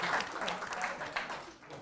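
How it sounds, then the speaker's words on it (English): Brief scattered clapping from a small audience at a women's panel discussion, with voices murmuring underneath. "I'm gonna clap for that."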